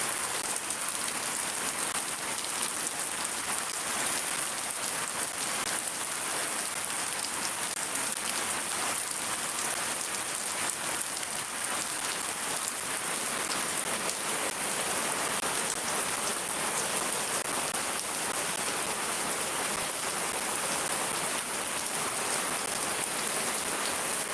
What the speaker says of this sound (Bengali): এখন কিছুটা কমছে বৃষ্টি